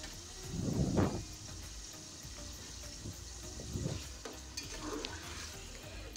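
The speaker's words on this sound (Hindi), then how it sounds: "लहसुन अदरक का पेस्ट डाल के चिकन को अच्छी तरह फ्राई करने," Steady sizzling of chicken frying in a pan with garlic-ginger paste for biryani, with a couple of louder stirring scrapes breaking through, close by and without talking.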